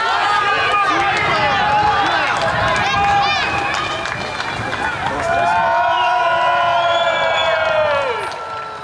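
Residents of five apartment blocks in a neighborhood crowd their balconies and open windows at 6 p.m. to cheer medics, a loud continuous wash of shouting, whoops and cheering voices echoing between buildings, with clapping mixed in, sustained throughout.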